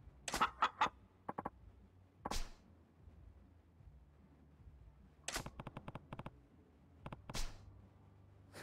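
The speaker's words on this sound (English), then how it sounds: "That's a fucking chicken." Chicken clucking in short bursts of sharp squawks and clucks separated by quiet gaps, fairly close and alone, with no talk over it.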